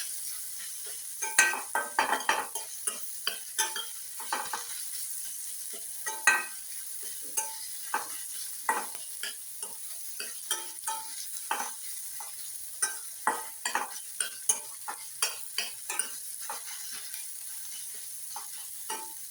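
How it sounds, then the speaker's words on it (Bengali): Onion, ginger and garlic frying in a pan under a soft sizzle, with repeated sharp scrapes of a spatula stirring at an irregular pace. "আমার পেঁয়াজ আদা রসুনগুলো ভাজা ভাজা হয়ে গেছে।"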